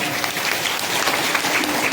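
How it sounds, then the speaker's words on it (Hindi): An audience at a devotional gathering claps loudly, a continuous, dense burst of applause from many hands with no voices over it. "वाह, जोरदार तालियां बजाएं।"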